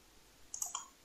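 A mouse clicks in logo design software, a short cluster of two or three soft, quick clicks close by in an otherwise quiet room.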